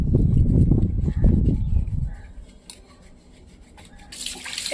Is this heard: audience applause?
no